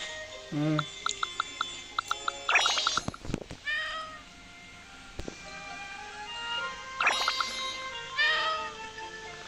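A cat meows repeatedly in a home setting, several short and drawn-out calls spaced irregularly, close and fairly loud, with sharp knocks and handling noises between them and no talking.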